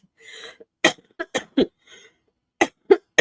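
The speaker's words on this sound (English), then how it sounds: "you're just going to have to put up with me coughing" A person coughs repeatedly in a close, loud burst of sharp hacks with short gaps, preceded by a brief throaty sound and an exhale.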